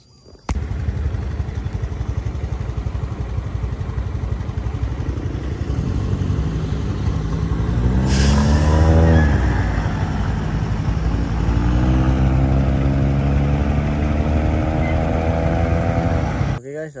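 Motorcycle ridden along a road toward Pontian, its steady engine drone rising in pitch as it accelerates, with wind noise throughout and no clear talk.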